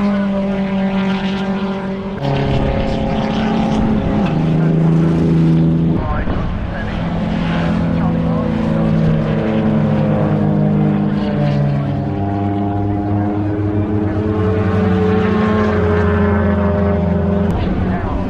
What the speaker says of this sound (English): these pre-World War II cars don't seem to be going as fast